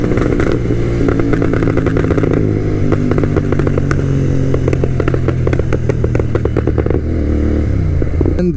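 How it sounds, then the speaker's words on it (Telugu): A tuned Royal Enfield GT 650 motorcycle engine revs hard up close, a loud, continuous roar with rapid throttle blips and rattly mechanical clatter, and no voices. "సౌండ్ వస్తుందో బండిది, భయంకరంగా వస్తుంది"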